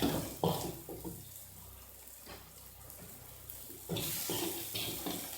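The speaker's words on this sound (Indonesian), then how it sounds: "ini kita boleh tuangkan air sedikit" Water pours into a pan holding stir-fried fern greens with sliced large red chilies, a steady running splash that swells briefly and then continues at moderate volume.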